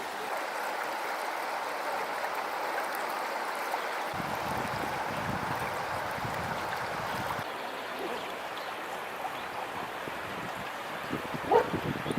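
Steady rushing river water flowing continuously, with a broad hiss and occasional gusts of wind noise buffeting the microphone.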